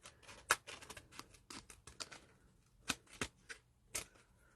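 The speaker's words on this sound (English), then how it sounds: "I'm just using my scissors and following it along" Scissors cutting paper along the edge of a birch-pattern ribbon for a junk journal, a series of crisp, close snips and rustles in an irregular rhythm, quiet, with no speech.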